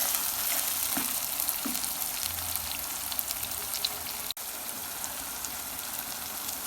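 Tomato masala for chicken keema sizzling steadily in a pan, a dense, continuous frying hiss with a few faint clinks and a brief cut near the end, with nobody speaking.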